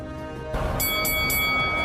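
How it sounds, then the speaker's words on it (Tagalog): A boxing round bell rings out at an IBF championship fight, a bright metallic clang struck a few times in quick succession over a noisy arena crowd. "bagsak ulit si Gauto, pero inabot pa ito ng bell."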